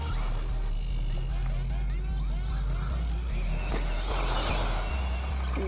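A Traxxas Slash 2WD RC truck with a 4-pole sidewinder motor and an 18-tooth pinion drives around, giving a rising electric whine and scrabbling tire noise over steady background rumble.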